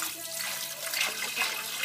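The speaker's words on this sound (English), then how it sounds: "we're going to fill up just up to above the point of the Silverside with some water" Tap water runs steadily into a pot over a corned beef silverside in a home kitchen, a continuous close splashing rush with no pauses.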